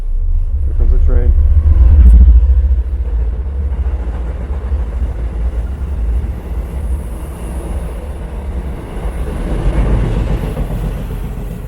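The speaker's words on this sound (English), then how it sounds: "Here comes the train." A train passes an abandoned train station in Rhode Island, with a loud low rumble that swells early and then carries steadily on, while people talk over it.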